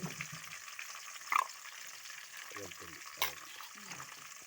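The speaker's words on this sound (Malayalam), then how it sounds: "ചതച്ച് വെച്ച ഇഞ്ചി, വെളുത്തുള്ളി, പച്ചമുളക് എന്നിവ ചേർത്ത് നന്നായി യോജിപ്പിക്കുക." Crushed ginger, garlic and green chilli frying in hot oil with dried red chillies and curry leaves for a mussel pickle, a steady soft sizzle with a couple of sharp spatters and faint stirring.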